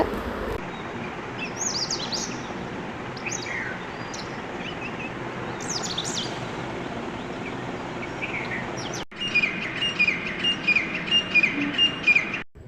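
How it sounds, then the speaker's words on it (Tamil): Morning birds chirping and tweeting in Tiruchirappalli, India, over a steady outdoor hum, with the calls growing louder and busier near the end. "காலையில் அந்த பறவைகளுடைய சத்தம் கேட்குறதுக்கு மனசுக்கு அவ்வளோ நிம்மதியாக ராகத்தாக இருக்குதுல்ல"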